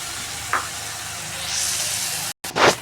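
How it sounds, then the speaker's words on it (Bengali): Ginger, cumin, chili and tomato paste frying with turmeric and salt in a pan for a rui fish curry, a steady sizzle with a brief stir at the start, a short gap, then a louder burst of hiss. "ভালো করে মশলাটা কষিয়ে নেব।"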